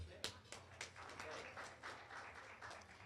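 A meeting audience gives a short round of applause for a speaker taking the podium, a dense burst of clapping with a few sharper individual claps.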